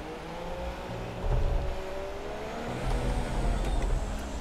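A Formula 1 car in the F1 2017 video game, Haas team at the Mexico Grand Prix, revs with rising and falling engine tones, holding steady and then climbing again, moderately loud with no talk.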